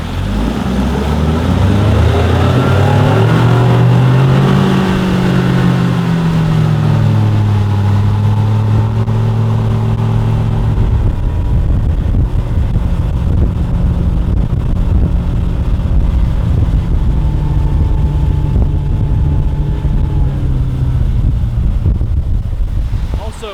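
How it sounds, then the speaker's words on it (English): A 2021 Ranger RT 198P boat's engine roars up steadily in pitch as it accelerates from a hole shot, loud and continuous with wind buffeting the microphone throughout. "here is the hole shot, and we'll get her up to a little bit of speed"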